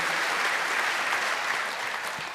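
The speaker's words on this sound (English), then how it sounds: "You can clap." Dense, continuous clapping from a concert audience at Massey Hall, a broad sustained wash of applause with no breaks.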